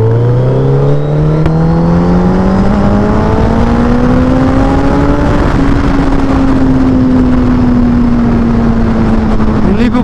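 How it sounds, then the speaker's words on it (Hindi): A loud, open-exhaust Mini Cooper accelerates on a highway, its engine note climbing steadily then holding a sustained drone, heard up close over wind and road roar. "मिनी कूपर का साउंड तो बहुत ही बढ़िया था."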